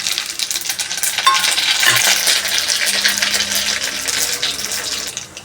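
Mustard seeds and cumin dropped into hot oil in a pan, a loud close sizzling crackle with a few sharp pops and stirring scrapes, no talking.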